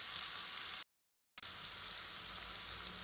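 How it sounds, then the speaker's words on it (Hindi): Mutton and peas frying in a pan give a steady, close sizzle that cuts out briefly partway through, then carries on evenly. "हम लोग मटन का जो गोश्त है वो ऐड कर देंगे और इसे मज़ीद 1-2 मिनट के लिए भूनेंगे।"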